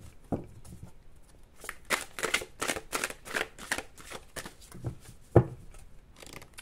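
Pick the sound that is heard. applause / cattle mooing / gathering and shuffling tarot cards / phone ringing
gathering and shuffling tarot cards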